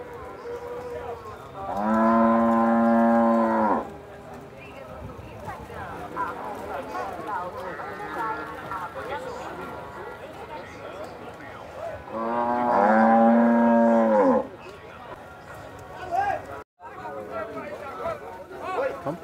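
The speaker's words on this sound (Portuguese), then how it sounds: "Já vai embarcando uma boiada aí." Cattle at a livestock market in Campina Grande, Paraíba, Brazil, give two long, loud moos several seconds apart over a steady background of crowd chatter and market bustle.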